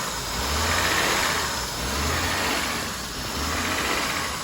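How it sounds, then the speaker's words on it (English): A Honda Accord engine idles with a steady, fairly loud running drone that swells and dips slightly in rhythmic waves, suggesting a mild sputter, with no voices. "Oh, there she goes, sputtering a little bit."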